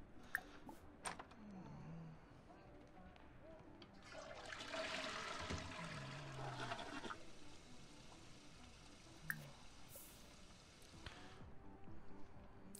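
A toilet flush in The Sims 4, a rushing water burst lasting a few seconds in the middle of quiet game ambience with faint background sounds.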